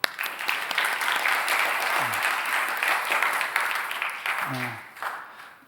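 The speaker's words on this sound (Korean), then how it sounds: "감사합니다. 박수." A church congregation at a Sunday worship service breaks into applause, a full, close wash of clapping that runs throughout, with brief voices rising over it near the middle and end.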